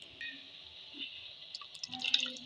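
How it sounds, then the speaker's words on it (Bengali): Pre-boiled chana dal slides wetly into a pot of potatoes for a beef curry, a soft, quiet pour with small splashes and drips that grow a little busier near the end. "এই যে বন্ধুরা আমি এর মধ্যে ঢেলে দিলাম ডালটা"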